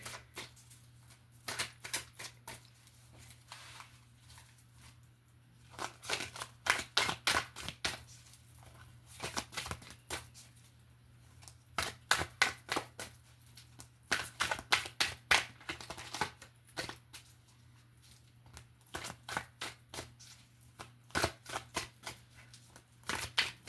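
Tarot cards shuffled by hand for a reading, bursts of crisp riffling and slapping cards close by, repeated in clusters with short pauses and a faint steady hum underneath.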